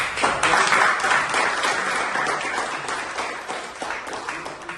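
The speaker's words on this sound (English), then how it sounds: "So can we have a round of applause for KG?" A room full of people applauds, loud at first and gradually tapering off, with no talking over it.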